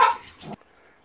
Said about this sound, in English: the dog is making a lot of noise right there